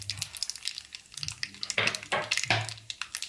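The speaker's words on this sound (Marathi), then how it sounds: "त्यात आपल्याला त्याला फोडणी द्यायची." Mustard seeds and turmeric tempering in hot oil, a close, quiet crackle of quick pops and sputters with a few louder sizzling bursts in the middle.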